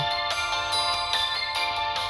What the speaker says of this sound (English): oh god, my phone's about to die.